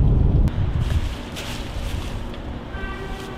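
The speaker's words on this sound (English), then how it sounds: "because it's so windy a little bit" Wind buffeting a microphone outdoors, with a heavy low rumble in the first half second and then steadier, softer gusting noise throughout.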